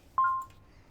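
A single short electronic beep from a barcode scanner in the Returns Outlet Simulator video game, one quick clean tone that decays fast over a faint quiet background.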